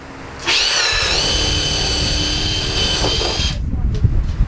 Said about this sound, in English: we use a paddle bit to drill the 2 pilot holes